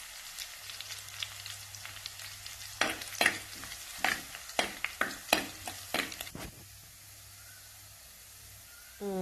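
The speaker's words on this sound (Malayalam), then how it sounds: "അല്പം വെളുത്തുള്ളി, ഒരു 4 അല്ലി വെളുത്തുള്ളി, അതുപോലെ തന്നെ 3 അല്ലി ചെറിയ ഉള്ളിയും കുറച്ച് കരിവേപ്പിലയും ആണ് നമ്മൾ ചേർക്കുന്നത്" Garlic, shallots and curry leaves fry with mustard seeds in hot oil for unakameen curry, a steady sizzle broken by a run of sharp stirring scrapes that then fades back to an even hiss.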